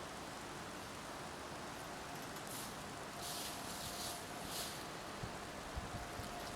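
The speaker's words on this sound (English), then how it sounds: "The rain's coming." Soft, steady rain hiss in a cemetery with scattered drips and a few louder pattering bursts, fairly faint and continuous with no voices.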